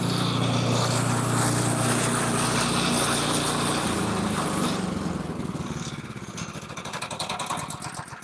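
A flywheel-type firewood splitter's engine runs loud and close, a steady mechanical roar that fades a little and turns into a rapid fluttering rattle toward the end.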